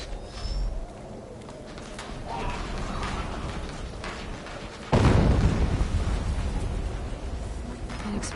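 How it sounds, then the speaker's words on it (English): A heavy explosion in Horizon Zero Dawn Remastered bursts in loudly partway through, a deep booming blast that rumbles and slowly decays over low background game noise. "An explosion."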